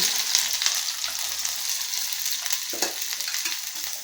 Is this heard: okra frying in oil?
yes